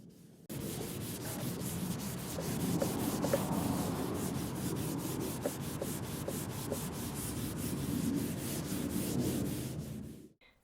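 Waxy wood oil rubbed into the wooden planks of a coffee table, a steady close scrubbing with rapid rhythmic back-and-forth strokes for about ten seconds, no voices.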